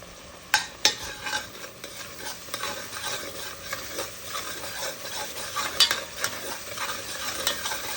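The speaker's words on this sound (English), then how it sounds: "Gonna fry it up." Chicken and squash curry frying in a single pot, a soft continuous sizzle under the scrape and clink of a spoon stirring, with occasional sharper knocks against the pot; no talking.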